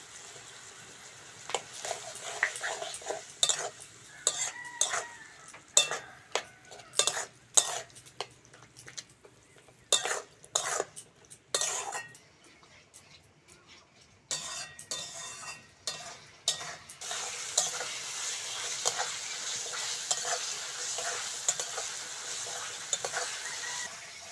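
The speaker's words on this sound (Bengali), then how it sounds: "এবার মশলাটা ভালো করে কষে নেব" Tomato, green peas, ginger-garlic paste, salt, turmeric and chilli powder stir-frying in a pan for egg curry: a long close sizzle with rapid metal spatula scrapes and clinks in bursts, easing into steady frying toward the end.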